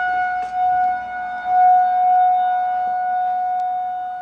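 An outdoor warning siren during its monthly test holds a steady, droning wail, loud and unbroken, with faint background noise underneath and no talking.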